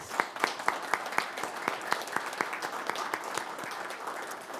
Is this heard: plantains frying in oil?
no